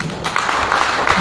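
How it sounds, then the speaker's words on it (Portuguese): Round of applause for the national representative at a GB political party candidacy event, a brief dense burst of clapping from a crowd, steady and fairly loud throughout. "tive salva de palmas para o mandatário nacional"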